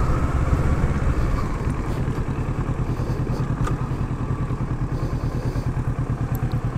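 A Kawasaki Ninja 650 motorcycle engine runs close by with a steady, rhythmic low pulsing throb, loud and continuous with light clatter throughout.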